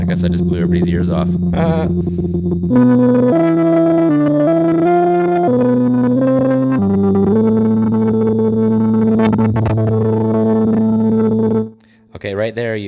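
A Moog Voyager XL synthesizer holds loud, sustained buzzy tones that step through several pitches as its aftertouch is pressed, with no talk, ending in a short drop.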